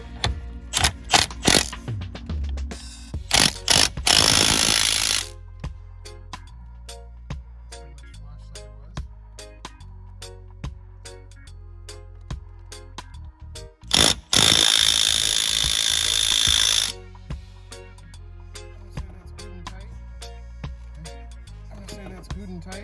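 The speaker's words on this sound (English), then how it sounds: "we're just going to torque it on there" Mechanical clicking from a ratchet wrench tightening a Momo steering wheel onto a hub adapter in a MK3 Toyota Supra. Sharp, close ticks come in irregular runs, with two longer, harsher bursts of grinding noise between them.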